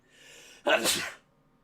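A single loud sneeze bursts out after a faint, breathy lead-in, then quickly fades to quiet.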